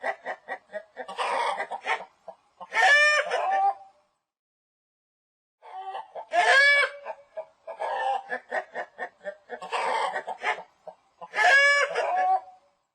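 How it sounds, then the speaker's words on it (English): A chicken clucks in chuckling bursts between repeated rooster crows, several calls in a regular cycle with short pauses, close and clear with no talking. "Chicken."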